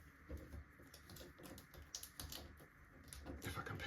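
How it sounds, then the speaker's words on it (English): A deck of Pokémon trading cards being shuffled by hand, a run of quick, close papery riffles and flicks with soft rustling throughout. "I'll give it a shuffle then."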